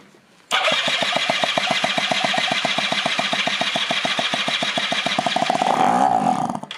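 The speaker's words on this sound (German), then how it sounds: "Jetzt versuchen wir es mal ohne den Vergaser. Ob er einen Hochdreher macht." A Rex 50 two-stroke moped engine, a barn find run without its carburettor, starts abruptly and revs hard in a steady rapid buzzing pulse that holds for several seconds, close and loud, then pitches up briefly near the end.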